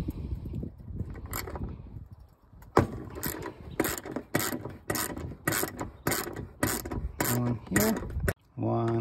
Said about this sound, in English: Take your 10 millimeter socket, remove these bolts here.